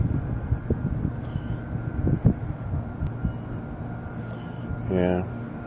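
Low, steady wind rumble buffeting a microphone, with a brief tonal whine near the end.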